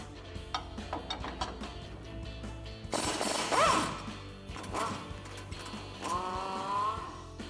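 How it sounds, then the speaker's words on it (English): A wrench and socket work on the lower strut bolt of a 2004-2020 Ford F-150 truck, giving metallic ratcheting clicks, clanks and scraping knocks in irregular bursts, close up and without speech. "we want to remove our lower strut bolt. We're going to be using an 18 millimeter wrench, a 15 millimeter socket, and an impact."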